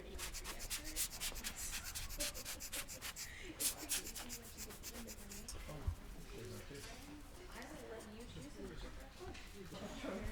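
Brushes rub and scrape across the painted surface of a museum model with chipping paint, a steady dry scrubbing texture running throughout, with people talking softly over it.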